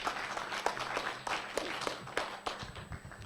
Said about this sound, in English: let's give him a round of applause to thank him for his sermon